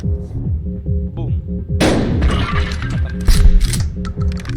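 A shotgun in the Buckshot Roulette video game fires at the dealer with one loud, booming blast, a second burst following moments later, over steady background game music.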